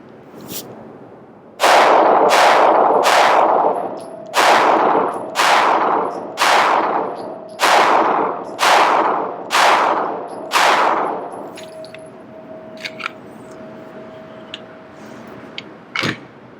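A Glock 19C compensated pistol fires about nine sharp, loud shots in a steady rhythm, each ringing out briefly. A last isolated shot follows after a short pause, with no talking.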